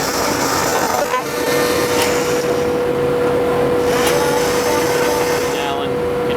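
A vacuum table holds leather down on a CAD projection cutting machine, giving a loud, steady drone with a constant tone, while a voice talks over it and brief handling knocks occur.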